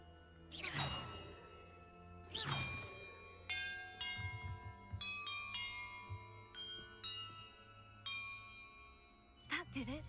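Bells in a music puzzle in Hogwarts Legacy ring out one at a time, first two heavy swishing strikes, then a sequence of clear sustained tones at varying pitches, ending with another whooshing strike.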